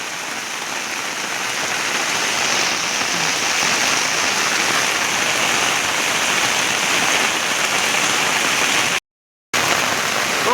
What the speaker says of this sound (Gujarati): ખૂબ બધો વરસાદ પડી રહ્યો છે